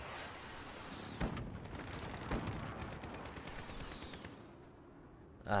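Rapid automatic gunfire in Call of Duty: Modern Warfare, dense bursts of shots rattling steadily for several seconds with a few heavier cracks and a sharp blast at the very end.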